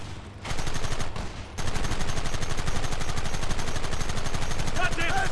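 Rapid, dense gunfire from the Red Dead Redemption video game, a continuous loud volley of shots with a brief lull early on, close and sustained throughout.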